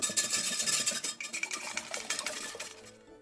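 Two eggs whisked for low-carb fried rice, a busy run of quick clinks and taps against a bowl up close, fairly loud at first and thinning out toward the end, with no voices.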